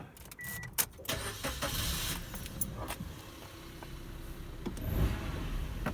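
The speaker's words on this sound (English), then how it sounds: "Car is now running." A car engine cranks and catches, then idles steadily close by in a home setting where a 5 kW Chinese diesel heater is installed, with a few sharp clicks and knocks at the start.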